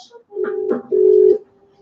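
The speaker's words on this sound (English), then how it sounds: "Sarah grabs her phone and dials 999" Two short telephone tones sound close and clear, like keypad beeps while dialing 999 for an emergency call, followed by silence.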